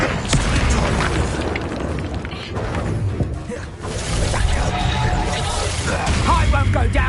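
Fire-blasting Confringo spell explosions in the fantasy game Hogwarts Legacy, a continuous roar of booming bursts and dense combat noise throughout, with a voice calling out spells over the chaos.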